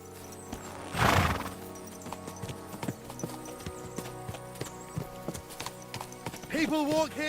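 A horse in Kingdom Come Deliverance 2 moves at a steady clip-clop of hooves, close by, with a brief whinny near the end and a louder scuffling burst early on.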